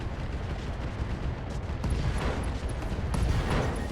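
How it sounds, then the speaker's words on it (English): An SRM ammunition explosion in the RogueTech mod of the BattleTech video game: dense, continuous rumbling blasts and crackling detonations, loud and sustained with no break. "SRM ammo explosion"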